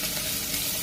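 Garlic hits hot oil in a pan for cooking chicken feet and gizzard, producing a brief, loud, steady sizzle up close.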